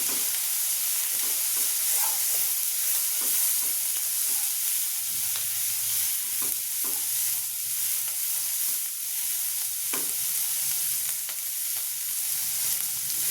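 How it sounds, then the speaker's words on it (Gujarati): Cabbage, potato and pea curry sizzles and hisses in a pan as turmeric, garam masala and coriander-cumin powder are stirred in, a steady frying hiss with soft, regular spoon scrapes, no voices. "હળદર, ગરમ મસાલો, ધાણા જીરું બધું મિક્સ કરી દઈશું।"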